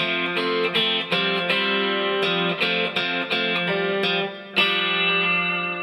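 Electric guitar plays measure 10 of a song, a steady run of picked chord strokes with effects-tinged tone and a brief dip before a final accented chord, no voices.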